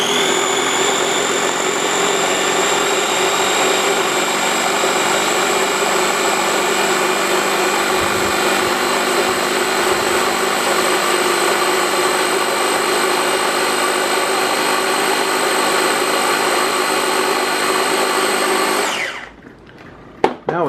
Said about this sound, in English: Get it blended up.